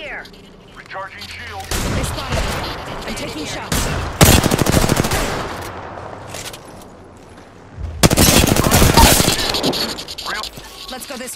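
Automatic gunfire in the Apex Legends video game: loud, dense rattling bursts that surge in and out over about eleven seconds.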